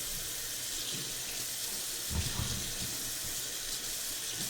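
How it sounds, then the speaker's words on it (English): A kitchen tap runs water into a sink at a moderate distance while dishes are washed with soap and warm water, giving a steady hiss and a short splashing clatter midway. "you should always thoroughly wash anything that touched raw meat with soap and"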